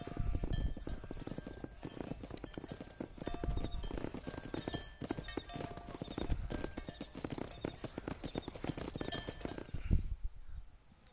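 Horse hooves clip-clopping in the video game Red Dead Redemption, a quick, steady rhythm of close hoofbeats with faint game ambience, fading out near the end.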